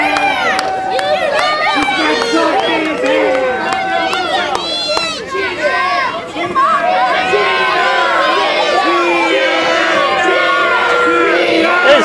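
A wrestling crowd roars and jeers at a 3XW televised event, a dense wall of shouting, whoops and cheering voices that stays loud and continuous throughout.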